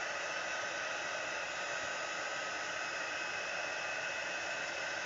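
A heat embossing tool heating embossing powder on a stamped card, giving a steady, loud hair-dryer-like rushing hiss that runs unbroken and alone from start to finish.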